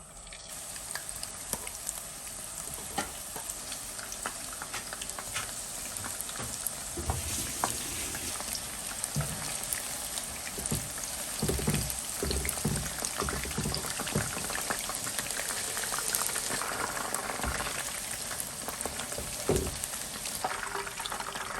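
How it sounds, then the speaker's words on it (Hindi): Chicken pieces frying in hot oil in a kadai for chicken Manchurian, a steady close sizzle and crackle with scattered pops and bursts, no voices. "अब हम चिकन को फ्राई कर लेते हैं।"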